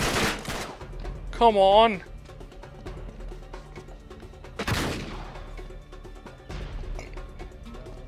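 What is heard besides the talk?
AK-47 gunfire in the video game Uncharted 3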